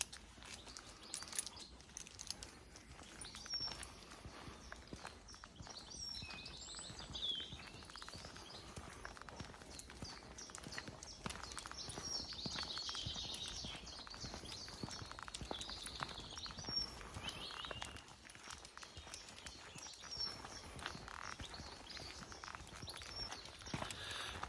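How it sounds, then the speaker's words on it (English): Faint birds chirp intermittently outdoors over soft footsteps and a steady rustling background. "we've had an influx of bird noise"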